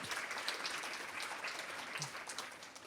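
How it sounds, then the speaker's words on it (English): An audience at a university lecture series applauds in a steady wash of many hands clapping, somewhat distant and even, fading slightly toward the end. "let's give that a round of applause"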